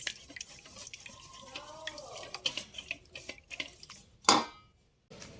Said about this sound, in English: And then just stir this concoction.